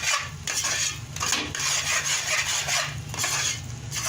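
Khandvi batter being stirred and cooked in a pan over the flame, a continuous close rubbing and scraping of a utensil against the pan in steady strokes, with no voices.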